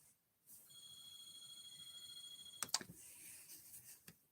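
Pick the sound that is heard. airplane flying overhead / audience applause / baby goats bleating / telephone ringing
telephone ringing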